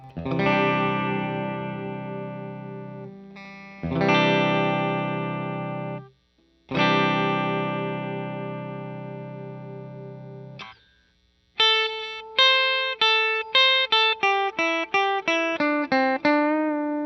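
Electric guitar through a JHS Octave Reverb pedal: long, ringing distorted chords with swelling reverb, then a run of quicker picked notes that shimmer and decay.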